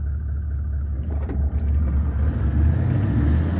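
A Toyota Land Cruiser 79 Series engine off-road: a steady, deep rumble close by with no other sound, swelling slightly toward the end.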